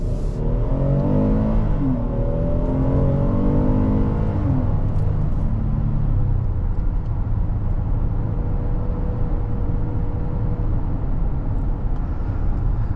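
A 2023 Kia Telluride EX accelerates hard, its engine note climbing through the first few seconds before settling into steady, loud road and engine drone, with no talking.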